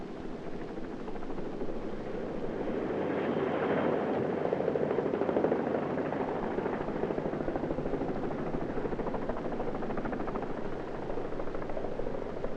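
Helicopters arriving at a 1970 state funeral in Quebec: a steady, fairly loud mechanical drone with fast rotor chop holds for about twelve seconds and swells slightly in the middle, with no voices.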